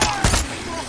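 Gunfire in the video game Far Cry 6: a single short, loud burst of shots, with a voice faintly present around it.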